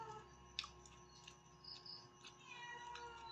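A quiet cat meows a few times, faint and somewhat distant, over a steady low background hum.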